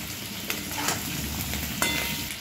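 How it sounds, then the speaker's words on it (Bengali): Fish roe fries in a kadai with salt, giving a steady close sizzle broken by a few sharp scraping taps of stirring, with no talk over it. "আর 5-7 মিনিট ভাজলেই আমার এটা ভাজা হয়ে যাবে।"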